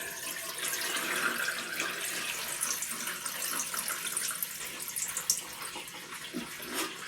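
Tap water runs steadily into a pot while Japanese rice is rinsed and drained, a continuous close splashing hiss with small shifts in flow and a few sharper splashes, no talking.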